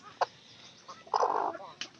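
A broody hen gives short clucks, then a longer nasal cluck burst, close and fairly quiet, alone without talk.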